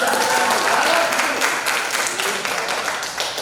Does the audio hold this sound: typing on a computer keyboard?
no